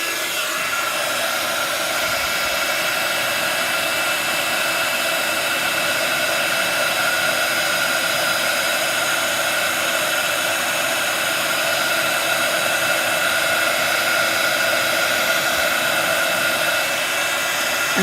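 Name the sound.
heat gun melting embossing powder on vellum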